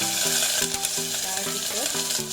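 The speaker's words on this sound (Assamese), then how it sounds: "পাঁচফোৰণ দি দিছোঁ তেজপাত দিলা শুকান জলকীয়া এটা আৰু পিঁয়াজ এনেকৈ কাটি লৈছোঁ ধুনীয়াকৈ দি দিলোঁ" Bay leaf, dried chili and onion sizzle and crackle in hot frying oil with five-spice seeds, a steady close frying hiss with rhythmic stirring scrapes throughout.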